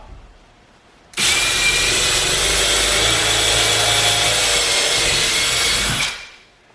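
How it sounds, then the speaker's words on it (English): A power drill whirs loudly and steadily for about five seconds, drilling into a wall to mount a coat rack, starting abruptly and winding down at the end, close by. "before I drill the next 2 holes"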